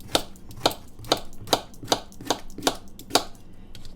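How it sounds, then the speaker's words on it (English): A kitchen knife chops squash into chunks on a board, nine crisp even knocks in a steady rhythm, close and clear with no talking. "So I'm going to just cut my squash like this."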